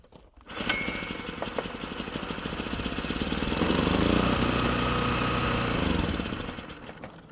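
A 1980s Nissan generator engine, unused for ten years and running on brake cleaner, sputters to life up close and runs with a rough, rapid knocking chug that swells a little, then fades near the end.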